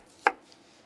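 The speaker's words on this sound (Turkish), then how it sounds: "Soğanı ince halkalar halinde doğrayın." A single sharp knife chop slicing an onion into thin rings on a board, brief and crisp, followed by quiet.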